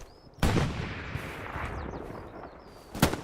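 Two sharp, loud Kar 98 bolt-action rifle shots ring out in Hell Let Loose, one near the start and one near the end, with a faint rumble of distant gunfire and battle noise in between.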